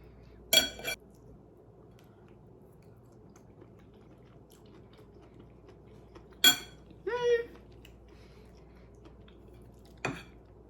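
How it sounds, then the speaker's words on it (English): A knife clinks against a plate while cutting Palmini lasagna noodles, giving a few sharp separate taps and scrapes spread across quiet stretches, with a brief voice sound in between. "Need to use my knife to cut these noodles a little bit."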